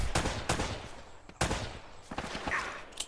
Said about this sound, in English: So you just quickly shoot these guys.